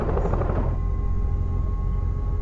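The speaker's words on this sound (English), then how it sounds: "Very quiet helicopter, as you can see." A Eurocopter EC130B4 helicopter runs steadily with a muffled, constant rotor and turbine drone, heard from inside the cabin after the door closes, with a faint high whine over the low rumble.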